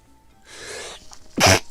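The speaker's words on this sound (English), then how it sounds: "I'm gonna sneeze" A single sharp sneeze bursts out close by after a short, breathy build-up, loud and isolated with no talk around it.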